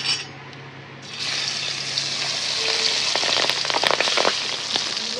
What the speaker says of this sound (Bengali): তেলটা গরম হয়ে গেছে, এখন আমি একে একে মাছটা দিয়ে দেবো।